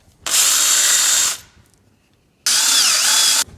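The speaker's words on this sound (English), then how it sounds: "This way I get to drill from here" A power drill whirs loudly in two bursts, each about a second long, separated by a short quiet pause, drilling a hole in a Ski-Doo snowmobile rail.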